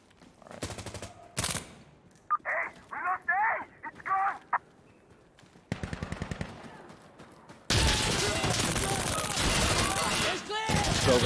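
Rapid bursts of automatic gunfire from a video game weapon with a 30-round magazine, loud and dense, coming in clustered volleys with short pauses and ending in a sustained roar of continuous fire.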